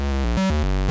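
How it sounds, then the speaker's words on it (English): A square-wave oscillator on a Teenage Engineering POM 170 modular synthesizer steps through a quick sequence. The tone is loud, buzzy and harmonically rich, with rapid pitch changes and no voices. "We all know the square wave since it's in the"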